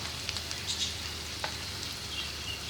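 Spices including ground coriander, turmeric and Kashmiri red chili frying in a pan for red bean (lobia) curry, a steady close sizzle with faint stirring scrapes, no talk.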